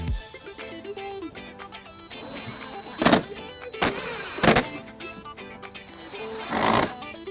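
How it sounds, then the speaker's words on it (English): A power driver runs screws back into the underbody panel of a 2018 BMW 530i during a trailer hitch install, several sharp loud bursts among clicks and light handling noise, close by. "we're going to use our screws to reattach this underbody panel."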